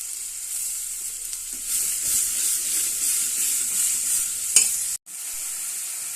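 Onions sizzle and fry steadily in a pan for chicken gongura curry, with occasional stirring scrapes and a brief sharp clatter near the end. There is no talk.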